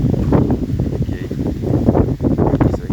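Strong wind buffets the microphone outdoors in loud, continuous gusts for the whole span, roaring and rumbling with no pauses.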